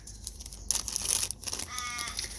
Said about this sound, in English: Listen to the birds. They're very noisy this morning.